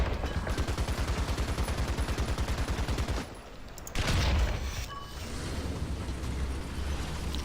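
Rapid automatic cannon fire from an M3 Stuart light tank in a tank video game, a steady close, loud burst of shots for about three seconds, then heavier booming impacts and rumbling battle noise.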